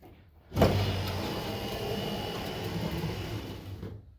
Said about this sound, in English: The window will go up and down at all times at this point.